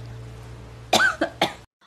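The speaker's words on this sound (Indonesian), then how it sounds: "Dia batuk-batuk sehingga ditegur oleh atasannya agar tak memasak jika sakit." A sick woman in a Korean drama coughs three times in close, harsh bursts, the first strongest, over a low steady background hum.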